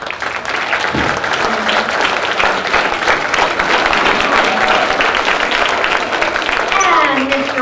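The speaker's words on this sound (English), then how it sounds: "A round of applause for them." Sustained applause from an elementary school audience at a fourth-grade Annie Jr. musical, steady and full throughout, with voices and a few whoops mixed into the clapping.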